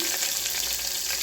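Onions fry in oil with mustard seeds and cumin in a pressure cooker pot for dal khichdi, a dense, even sizzle up close with no talking.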